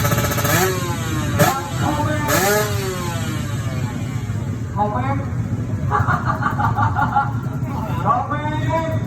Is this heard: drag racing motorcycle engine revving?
yes